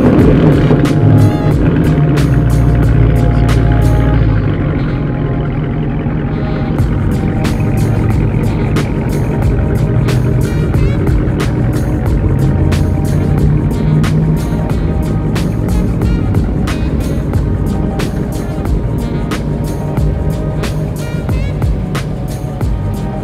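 A 2022 Dodge Charger 392 with a mid muffler delete rumbles loudly with a deep, steady exhaust drone, swelling as the throttle is pressed and settling into a sustained throaty idle.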